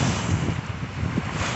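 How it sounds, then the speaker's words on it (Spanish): Waves wash against a stone beach on a Patagonian lake under strong wind, a continuous rushing roar with heavy wind buffeting on the microphone and no talk. "esto es lo que se ve. El oleaje."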